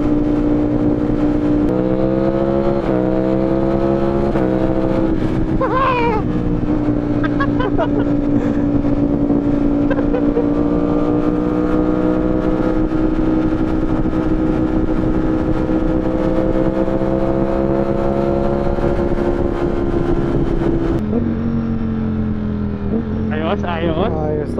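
A Ducati Streetfighter V4S motorcycle engine revs and accelerates, its loud, sustained drone rising and falling in pitch for over twenty seconds while people talk over it.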